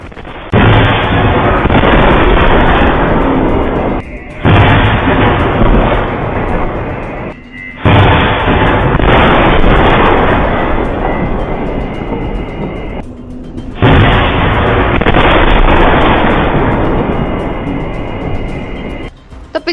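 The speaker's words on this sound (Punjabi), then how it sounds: "ਧਮਾਕੇ ਦੀ ਆਵਾਜ਼ ਸੁਣ ਕੇ ਲੋਕਾਂ ਦੇ ਵਿੱਚ ਦਹਿਸ਼ਤ ਦਾ ਮਾਹੌਲ ਹੋ ਗਿਆ ਸੀ" Explosion blasts in a Gurdaspur village area, a series of very loud, sustained roaring booms separated by brief gaps, harsh and overwhelming throughout with no talk.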